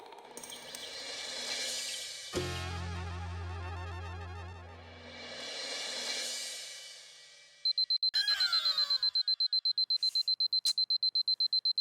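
Alarm clock ringing in a home at night, a loud rising and falling electronic tone that gives way to rapid, steady, piercing beeps, with no voices heard.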